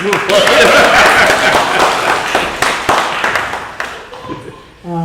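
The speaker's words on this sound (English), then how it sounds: "Nice round of applause for Dr. Baxter." An audience at a jazz trio concert applauds with dense, steady clapping that gradually thins and fades out near the end.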